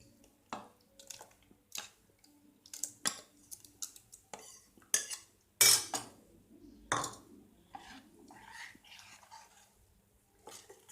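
Pumpkin pieces going into a pot of mor kuzhambu, with spoons and utensils clinking against the pot in scattered sharp knocks and scrapes, close and fairly quiet.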